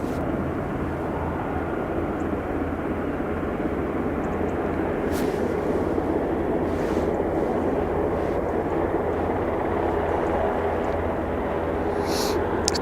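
A British Airways airliner at Aberdeen Airport, a steady low engine roar and hum holding evenly throughout, moderately near.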